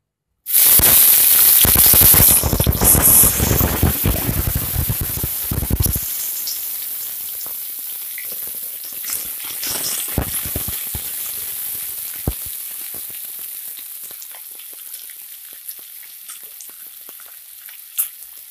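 Chopped onions hit hot oil in a heated kadhai with a loud, dense sizzle that dies back after a few seconds into a quieter, steady crackle and pop, with no voices.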